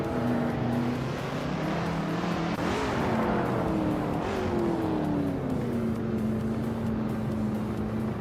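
A 1965 Alfa Romeo GTA race car in a racing video game drones steadily and close throughout, its engine pitch dipping, climbing and sliding back as it works through the gears, with no talk.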